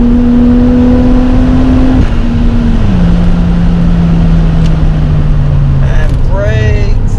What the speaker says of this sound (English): Let's listen to that 1JZ again.